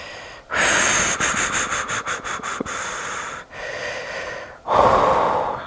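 Slow, deep breaths during a floor hip mobility exercise, loud close inhales and long exhales with a short stuttered stretch of air, several full breath cycles.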